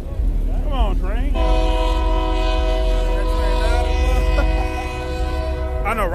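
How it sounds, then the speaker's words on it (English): A train horn blasts long and loud, holding its chord for several seconds, over the steady rumble of a passing train at a Memphis car meet, with people talking around it. "Y'all hear the train right on cue."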